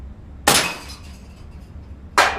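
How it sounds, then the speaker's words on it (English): A Benjamin Marauder .22 caliber airgun shot strikes a rigged-up pop target outdoors, giving two sharp, bright cracks with a shattering edge about two seconds apart against quiet background. "this is shooting the Benjamin Marauder 22 caliber"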